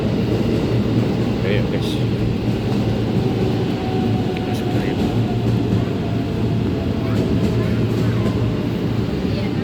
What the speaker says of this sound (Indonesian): kita naik kereta ini menuju ke Tanah Abang